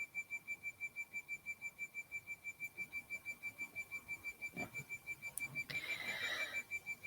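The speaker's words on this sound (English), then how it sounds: "There's some kind of like alarm going off near me, like a countdown and an alarm." A nearby electronic alarm beeps in a steady, rapid pulsing pattern like a countdown, sounding continuously across the whole stretch at moderate loudness, with a brief rustle or knock partway through.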